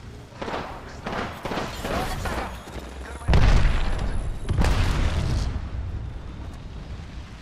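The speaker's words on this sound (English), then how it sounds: "Throwing thermite grenade. Throwing thermite grenade. Throwing arc star." Thermite grenade and arc star explosions in Apex Legends: repeated bursts and booms, with a louder deep detonation midway and a heavy rumble that fades out at the end.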